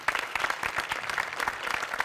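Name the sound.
audience applause at a comedy show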